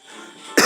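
A person recovering from an illness gives a single short, sharp cough right at the microphone after a moment of quiet.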